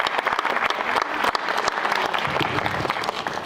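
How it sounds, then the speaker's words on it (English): Dense, sustained applause from a crowd at the Woodland Worldwide 'Modern Man' Award presentation, many hands clapping steadily and loudly without a break for several seconds. "So another round of applause for everybody who made today possible."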